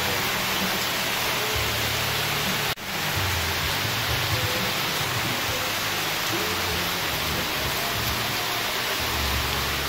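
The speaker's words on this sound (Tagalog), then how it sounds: "Grabe naman ang ulan dito sa Cam Norte." Heavy rain pours steadily in Camarines Norte, a dense, loud, unbroken hiss of water on surfaces continuing for about ten seconds without voices.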